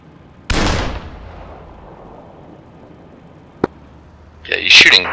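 Gunfire in a military video game ambush: a loud close blast opens and decays into a long rumbling tail, followed by a single sharp distant shot and then a dense burst of crackling fire at the end, with talk nearby.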